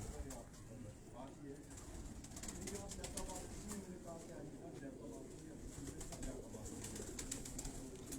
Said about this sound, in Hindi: ये कड़ी वाला कबूतर है जी।